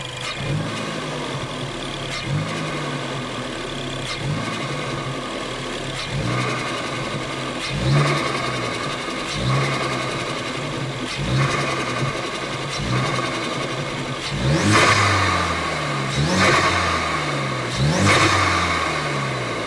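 A Ford Focus ST exhaust revs up again and again in rising surges, each falling back with a rough, fluttering burble when the throttle is released between 2,000 and 3,000 rpm, loud and close.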